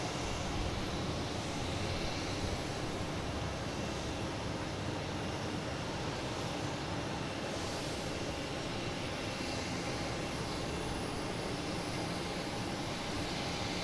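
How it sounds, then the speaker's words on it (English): An Air France Airbus A350-900 takes off from Boston Logan bound for Paris, its broad, steady jet roar filling the air without a break for the whole stretch, with no voices over it. "That sounds like Air France taking off."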